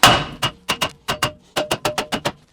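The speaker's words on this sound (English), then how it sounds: "Give it a few whacks" About a dozen sharp metallic hammer whacks strike a stuck rear brake drum on a 1988 car, close and loud, landing in quick uneven bursts with short ringing tails.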